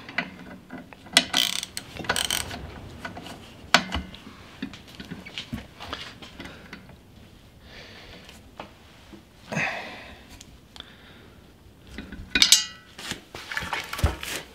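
A ratchet tightens the spindle nut on a John Deere tractor in bursts of close metallic clicking and clanking, with pauses between strokes and no speech.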